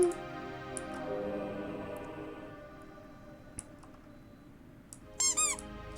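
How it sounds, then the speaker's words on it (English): In the video game Dread Delusion, a quiet stretch of low hum and faint ticks gives way near the end to a short, loud burst of high, wavering squeaks. "Squeaks."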